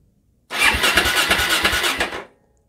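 A free barn-find Suzuki DRZ400 motorcycle with a bad history fires up after a silent pause, then runs for under two seconds with a loud, pulsing, chugging exhaust before cutting off abruptly.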